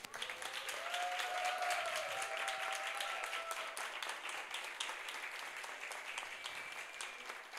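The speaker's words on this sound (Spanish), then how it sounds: "pedirle un aplauso para estas tres reinas" Audience applause for three women writers at a literary event in the San Pau Santa Creu library, a dense, steady clapping from a seated crowd lasting throughout, slightly fading toward the end, with some faint tonal voices or whistles above it.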